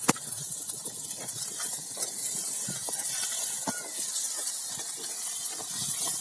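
Tomatoes tipped into a pan of softened onions for a Tamil-style broad bean (avarai) masala, giving a steady, close hissing sizzle that holds for several seconds with a few brief pops and clatters, and no talking.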